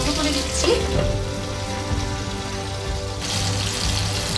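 Brinjal pieces fry in oil under a closed lid in a pan, giving a soft, continuous sizzle and crackle with a faint steady hiss, fairly close and even throughout.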